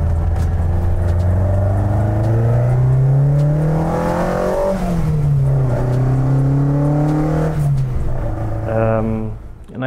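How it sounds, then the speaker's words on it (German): A Weber-carbureted VW Golf 1 engine revs hard and close, its pitch climbing, dipping and climbing again, then dropping away, with a voice talking over it. "Also die Geräusche, die da rauskommen, wenn das Ding da über 7000 Umdrehungen kommt"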